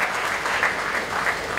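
Steady applause from an audience at the official launch event for the Bandung city webpage with Tokopedia, a dense continuous clapping that holds at an even level from start to finish, with no voices rising above it.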